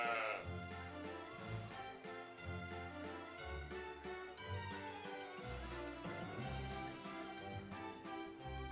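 Sheep bleating in the Story of Seasons: Pioneers of Olive Town farming game, several wavering calls over light game music, close and moderately loud.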